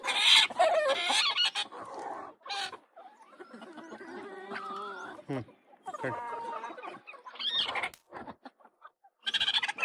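A broody hen clucks in short repeated bursts, with louder squawking flurries at the start and end, while someone talks in between over a quiet farmyard.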